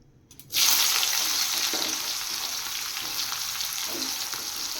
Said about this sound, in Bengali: পেঁয়াজটা ভালো করে একটু ফ্রাই করে নেব